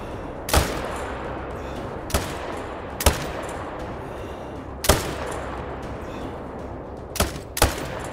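Hunters firing rifles at bison in the Alaskan wilderness, six sharp loud gunshots at irregular intervals, the last two close together, each with a short echoing tail over quiet outdoor ambience.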